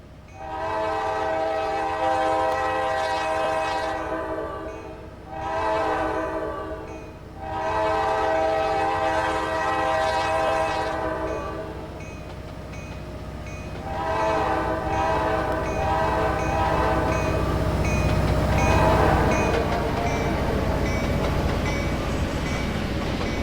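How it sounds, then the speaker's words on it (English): A Norfolk Southern autorack train, NS12A, led by a single SD70 locomotive, sounds its horn near Whistleton, North Carolina, with loud sustained chord blasts: two long ones, a short pause, then a longer blast as the train rumbles past. "That unknown train would actually turn out to be NS12A with a solo SD70 for power."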